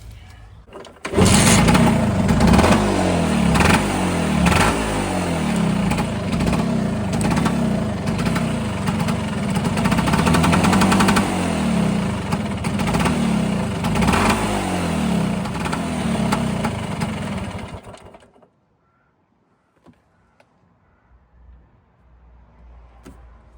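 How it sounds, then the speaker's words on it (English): A warmed-up Vespa scooter engine idles loudly with a steady buzzing putter for most of the clip, then cuts out, leaving near silence. "Now the engine's nice and warm, let's just have a quick look at the idle."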